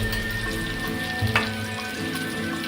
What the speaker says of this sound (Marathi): पलटी मारून पुन्हा एकदा आपण अशी 2 मिनिटं ही फ्राय करून घेणार आहोत